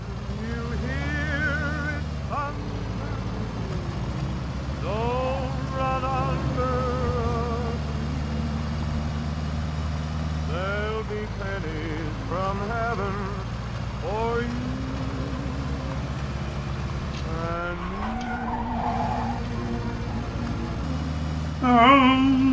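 A car engine in the Mafia II video game revving and idling, then pulling away with rising and falling engine tones, heard under someone talking in Czech.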